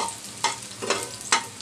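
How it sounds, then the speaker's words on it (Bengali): Two whole dried red chilies and two green chilies frying in a pan for eggplant bharta, a soft continuous sizzle broken by a few sharp stirring scrapes at irregular moments. "মরিচটা একটু ভেজে নিব। এখানে আমি দিয়েছি 2টা শুকনা মরিচ গোটা আর 2টা কাঁচামরিচ।"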